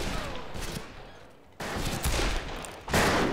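Gunfire in the Western multiplayer game Fistful of Frags, a dense burst of loud, crackling shots that fades into a brief lull, then resumes in another rapid volley with a sharp final blast, close and without talking.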